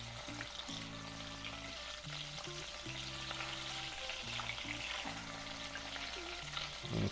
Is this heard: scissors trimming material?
no